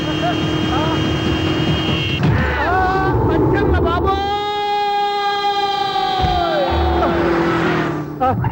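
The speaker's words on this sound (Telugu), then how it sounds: "సైరన్నే కొట్టాడు" A loud siren wails with sweeping, held tones over engine noise and excited voices talking.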